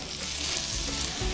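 Apple pieces fry crisply in hot oil with a continuous, close, hissing sizzle and a few soft bubbling pops.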